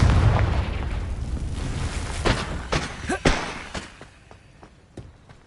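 A Confringo fire spell blast in a Harry Potter video game, a booming burst with a rumbling low tail followed by a few sharp cracking hits and thuds that fade out, close and loud.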